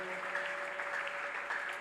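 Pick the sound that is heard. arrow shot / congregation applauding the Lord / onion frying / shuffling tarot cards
congregation applauding the Lord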